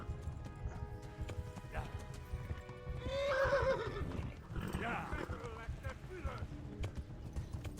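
In Kingdom Come: Deliverance, a horse neighs loudly with a rising whinny and clip-clop hooves, over steady background game noise.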